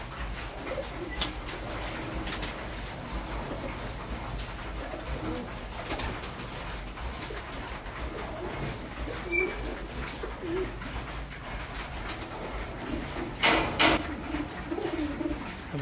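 A flock of young homing pigeons coos in a continuous, overlapping chorus of soft low calls nearby, with occasional brighter bursts and no speech.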